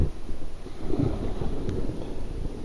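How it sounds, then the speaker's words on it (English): Steady light misty rain falling outdoors near a cave on a January day, a soft continuous wash with low rumbling texture and no voices. "It's raining. Well, it's not heavy, it's just a heavy mist rain."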